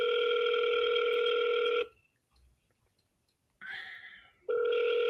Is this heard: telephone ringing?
yes